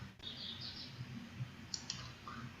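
Faint clicks from a computer mouse as a link is selected for an online form, two sharp clicks near the end over a low background hum.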